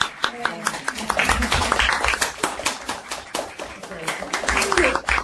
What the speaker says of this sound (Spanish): Todos aplausos.